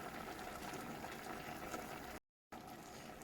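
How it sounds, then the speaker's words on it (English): A vegetable stew with mushrooms and tomatoes bubbles in a pot with a soft, steady hiss and simmer, faint and continuous apart from a brief silent gap near the end. "Now this has been bubbling for about 2 minutes with the mushrooms added"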